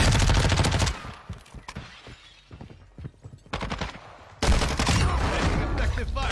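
Rapid bursts of automatic gunfire in an online battle royale shooter game, loud dense volleys at the start and end with sparser scattered shots and impacts between, mixed with game sounds.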